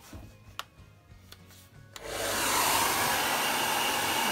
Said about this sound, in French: là je mets mon sèche-cheveux assez haut, de façon à ce que ça reste bien tacheté comme ça.